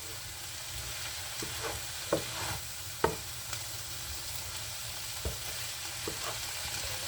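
Onions sauté in a pan for an Italian peperonata calabrese, giving a quiet, steady sizzle with a few soft clicks and taps from stirring, close but low in level.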